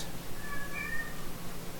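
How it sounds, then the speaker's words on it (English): A cat cries faintly in the background with a brief, high meow over steady room noise and hum. "Okay, the cat is crying."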